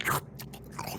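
A person imitates loud, horrible slurping of soup, making a wet, hissing suck that fades and returns in a brief second burst, with no words.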